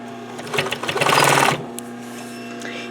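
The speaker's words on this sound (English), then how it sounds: "I have pressed it, and I'm just going to top stitch it." A sewing machine top stitching pressed fabric: a rapid mechanical whir that builds for about a second, then stops, with a steady hum before and after.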